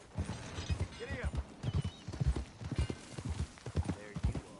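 Horse hooves clip-clop at a steady walking rhythm in the video game Red Dead Redemption 2, close and distinct, with occasional creaks from tack.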